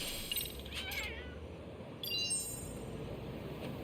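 A cat in the video game Lost Judgment meows twice, two short, clear, plaintive calls about a second apart, heard over a low, constant ambient game hum.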